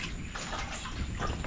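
Radish greens being rinsed by hand in a basin of water, a steady close splashing and sloshing running throughout without pauses.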